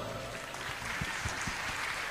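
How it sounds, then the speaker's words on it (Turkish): Audience applause at a concert by the Antalya Metropolitan Municipality band and city orchestra, a soft, distant, continuous patter of clapping from a hall crowd with a few sharper claps standing out. "alkışlar"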